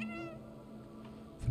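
A single cat meow in the video game Stray, a short wavering cry at the start that fades over the first half-second, followed by quiet game ambience with a soft thump at the end.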